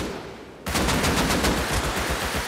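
Rapid automatic gunfire in the Rust console video game opens abruptly and continues as a steady, loud burst of fast repeated shots for about two seconds, with no voices over it.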